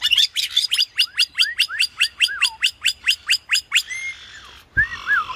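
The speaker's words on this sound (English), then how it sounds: "There's birds." Birds chirp outdoors during a school recess, a rapid run of about a dozen bright, evenly spaced chirps giving way to a few softer calls and whistles, close and clear.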